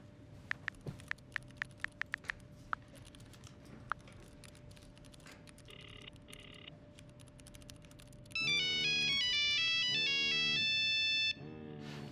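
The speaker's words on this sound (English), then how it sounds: "Is that your work phone?" A mobile phone plays a bright melodic ringtone with repeating stepped tones, loud and close, cutting in after a stretch of quiet room noise with faint clicks and a steady hum.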